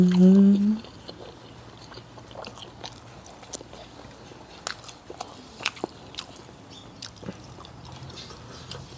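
Close-up bites and chewing of spicy som tam and grilled chicken come in soft, irregular crunches and squishes, with a brief voice at the very start.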